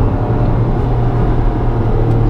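A 2022 Acura MDX A Spec with all-wheel drive accelerates hard without wheel spin, its engine a loud, steady low rumble heard from inside the cabin, with no voices.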